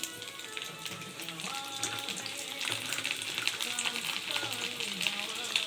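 Garlic fries in mustard oil with a black cumin tempering, a steady close sizzle and crackle with light tapping, while a person talks over it.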